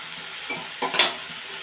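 Yardlong beans simmer with a mustard paste, turmeric, salt and green chilli mixture in a pan. A close, soft bubbling sizzle runs under short stirring scrapes and one brighter clink near the middle.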